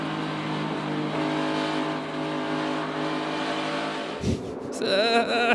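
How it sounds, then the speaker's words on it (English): NASCAR Xfinity Series race car engine at Auto Club Speedway, droning steadily at near-constant pitch as the driver feathers the throttle through a long sweeping corner, then a sharp shift to rising, rasping revs near the end. "if you listen to the engine there for a second, he is barely on the gas through the corner, just feathering and feathering"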